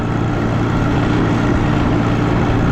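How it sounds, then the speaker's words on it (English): An Allis tractor engine runs at a steady, loud drone while pulling a grain drill through a field, with a dense, unbroken mechanical rumble close by. "I absolutely love running this grain drill with this tractor"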